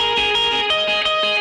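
A heavily distorted electric guitar plays sustained chords in short repeated strokes, loud and processed with effects.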